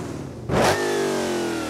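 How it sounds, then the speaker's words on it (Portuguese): A Dodge Challenger Demon engine in the BeamNG driving game idles, then snaps into one sharp, loud rev before dropping back to a steady, rumbling idle. "Mas o motor parece ter a mesma batida"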